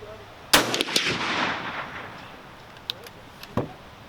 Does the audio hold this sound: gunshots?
yes